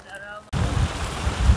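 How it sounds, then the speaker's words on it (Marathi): Heavy rain pouring down in a village, a sudden loud dense roar that starts abruptly after a quiet moment and keeps up steadily, with gusty buffeting close to the microphone. "पाऊस आला गाईज, पाऊस आला लय जोरान."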